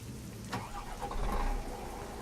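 A Scania truck engine in Euro Truck Simulator 2 cranks and catches, then settles into a low, steady idle rumble, close and moderately loud.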